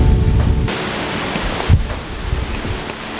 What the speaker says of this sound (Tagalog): grabe pa rin yung ulan.